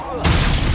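Spell casting in the video game Hogwarts Legacy, a sudden loud booming burst of magic effects that cuts in and sustains briefly, close and dense.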